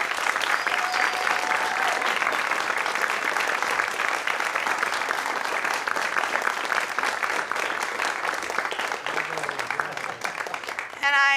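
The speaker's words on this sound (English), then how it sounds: "our first offering today is going to be applause" A church congregation at a Sunday service applauds steadily, with sustained, dense clapping from many hands that stays loud and even throughout before tapering slightly near the end.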